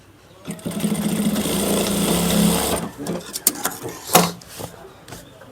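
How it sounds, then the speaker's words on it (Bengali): A tailor's sewing machine stitches the back pocket of a pair of trousers, running in a steady close whir for about two seconds before stopping, followed by scattered clicks and handling knocks. "তারপরে এখানটায় পাক্কা সেলাই করে দিয়ে দেবেন, ঠিক আছে, যেন না খোলে।"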